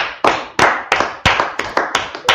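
Hand claps struck one at a time in a loose, uneven rhythm, about eight sharp claps spaced a fraction of a second apart, close and loud with no other sound between them.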